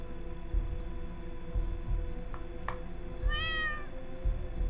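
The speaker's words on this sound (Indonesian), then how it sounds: "Oh, ada kucing." A cat meows inside the horror video game DreadOut 2, one clear drawn-out meow partway through over a low ambient game drone with faint soft thumps.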